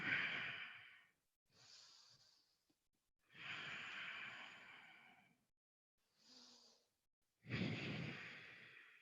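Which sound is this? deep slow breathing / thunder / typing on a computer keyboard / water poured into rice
deep slow breathing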